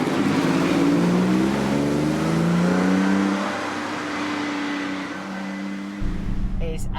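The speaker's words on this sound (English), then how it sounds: "So here we are then, driving the D996 in the Porsche 996." A Porsche 996 Carrera drives along the D996 road in France, its engine holding a steady, close drone that dips and rises in pitch as it changes pace, with a shift in engine tone near the end.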